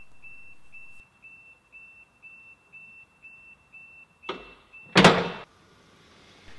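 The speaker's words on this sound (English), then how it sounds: "the operator must use the second lowering button, which causes an alarm to sound" A car lift's lowering warning alarm: a steady electronic beeping repeats at an even pace, then stops as two loud clunks of heavy lift machinery settle, leaving a quiet hum.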